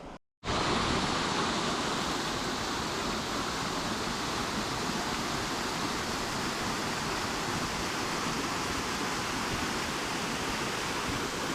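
A magnificent waterfall on a trout stream roars loud and close, a dense unbroken rush of water that begins abruptly after a moment of silence and holds steady throughout.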